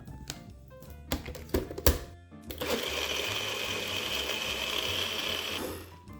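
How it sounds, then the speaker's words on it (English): Blender whirring as it blends a banana cream protein shake with ice, starting after some clicks and knocks, then a steady loud motor drone that runs several seconds before winding down. "we're gonna put the lid on this and we are going to blend until we get a creamy consistency."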